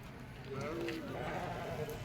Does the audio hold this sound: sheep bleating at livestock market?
yes